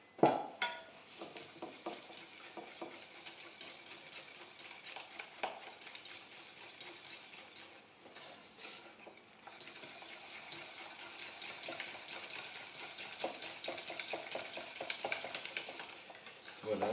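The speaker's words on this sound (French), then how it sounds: "je vais incorporer la crème et la gélatine" Whisk or spoon stirring cream and gelatin into a mirror glaze for a Black Forest cake, a steady close scraping and swishing in a bowl with light clinks, continuous without speech.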